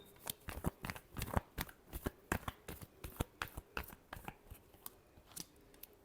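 Tarot cards being shuffled by hand, a close series of quick crisp riffling snaps in an uneven rhythm, quiet and alone.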